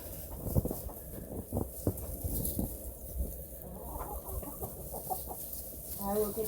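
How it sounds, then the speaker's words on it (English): Chickens cluck and murmur close by in a farm coop on a snowy day, with a rooster among them, soft irregular calls under a person's occasional quiet talk. "Crazy chickens."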